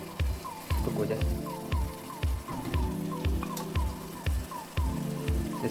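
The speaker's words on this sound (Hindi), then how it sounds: "कुकिंग की आवाज़ आपको आ रही होगी किस तरह चिकन पक रहा है" Chicken masala gravy sizzles steadily in a pan, with a close, crackling hiss and a regular, soft bubbling pulse throughout.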